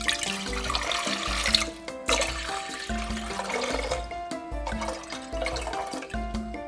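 Water is poured in a steady rushing stream for a Korean marinated mayak egg sauce, heard in two long bursts under bright background music.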